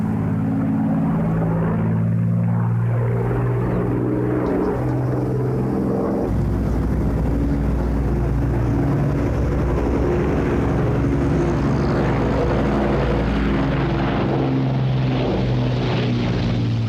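Propeller aircraft of the Battle of Britain Memorial Flight drone overhead in a loud, sustained engine roar, one pass blending into another with no pauses.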